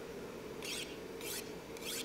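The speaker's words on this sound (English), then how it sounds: "the one with the saw, like when you're sawing metal" Three rasping saw strokes on metal in The Long Dark survival game, each about half a second long and evenly spaced, heard over a steady low background hum.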